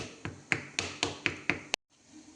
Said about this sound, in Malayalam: ഇനി ഞാനിതൊന്നും ഇങ്ങനെ തട്ടി കൊടുക്കുക